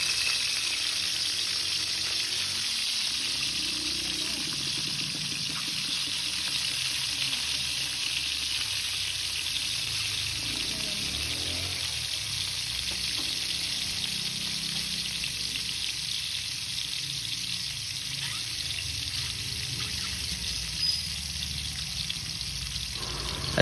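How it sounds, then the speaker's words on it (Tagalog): Eleven boiled eggs fry in hot oil with a steady crackling sizzle, close and continuous, with occasional stirring and soft pops throughout and no talk. "Ang una ay prito ang nilagang itlog."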